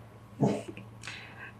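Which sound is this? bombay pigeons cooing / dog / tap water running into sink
dog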